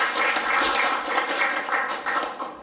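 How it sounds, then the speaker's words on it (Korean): Audience applause at a Korean community self-governance forum as panelists are introduced, a steady crowd of clapping hands filling the room for a few seconds before tapering off at the end. "인사하시면 힘찬 박수 보내주시기 바랍니다"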